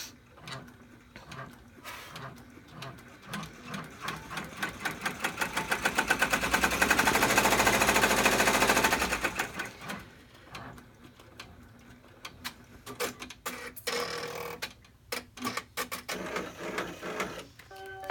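A computerized embroidery machine sews the lining tack-down step of an in-the-hoop double zipper clutch, its needle hammering in a fast steady rhythm that swells to a loud peak midway and then breaks into shorter stop-start bursts, with no voices.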